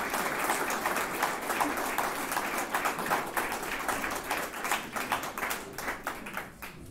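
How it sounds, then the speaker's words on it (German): Sustained audience applause fills a university lecture hall after a talk on tick bites, dense steady clapping from many hands at moderate distance, holding an even level throughout without voices. "Da haben Sie nochmals einen Applaus verdient."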